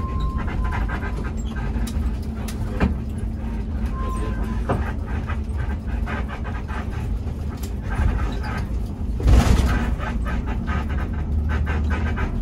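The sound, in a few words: creaking suspension of a Hino RK8 bus while driving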